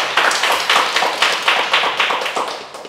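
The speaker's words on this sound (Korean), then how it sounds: "박수 한번 보내세요." A lecture audience claps together in an even, rhythmic patter of about a dozen beats, fairly loud, then fades slightly toward the end.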